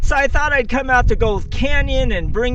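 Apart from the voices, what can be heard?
No everyday noise stands out behind the speech.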